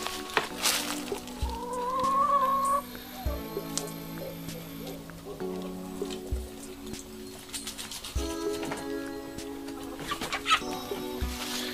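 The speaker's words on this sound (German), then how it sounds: "einfach wie wir die Hühner füttern mit Salat und Kohl" Chickens clucking and squawking nearby while being fed lettuce and cabbage, with a rising rooster-like call early on and scattered soft thumps and rustling throughout.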